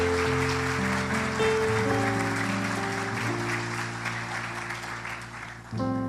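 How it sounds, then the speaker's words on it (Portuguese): A church congregation claps after a baptism, steady applause heard under sustained organ or keyboard chords that shift beneath it, with a slight swell near the end. "Uma salva de palmas."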